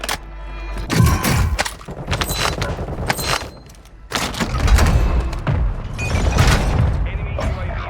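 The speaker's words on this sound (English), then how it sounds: "Friendly mortar strike inbound." Mortar strike explosions in Call of Duty Warzone 2.0: a series of heavy booming impacts with thumping low rumble, some near and loud, separated by brief lulls, with scattered gunfire and game sounds between blasts.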